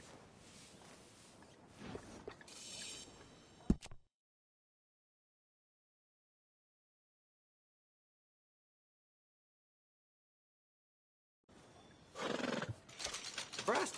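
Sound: horse neighing in a video game

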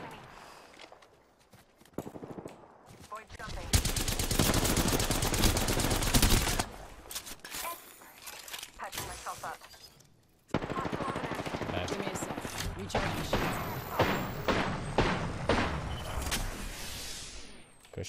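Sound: gunfire in the video game Apex Legends

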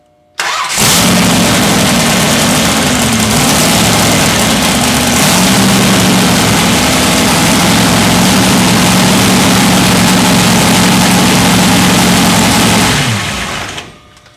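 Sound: engine started, pumping oil through filter

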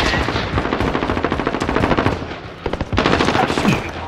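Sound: gunfire from a Call of Duty: Modern Warfare video game

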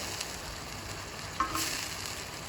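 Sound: rohu fish curry boiling on a raised gas flame

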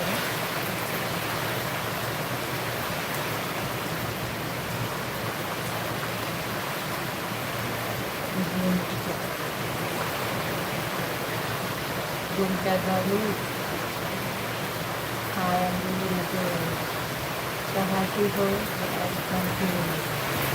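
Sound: heavy rain

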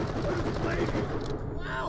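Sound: gunfire from a gun in the video game Borderlands: The Pre-Sequel

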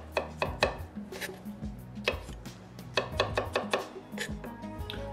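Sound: knife chopping olives

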